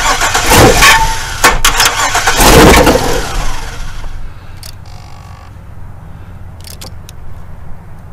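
Junkyard LQ4 V8 engine cranks and briefly catches with loud rough bursts, then fades to quiet background with a few short clanks; close and unaccompanied by speech.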